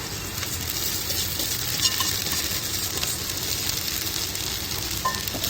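Sabudana khichdi sizzles and frys in a pan while being stirred and mixed, a steady close crackling hiss with light scraping throughout and no talking.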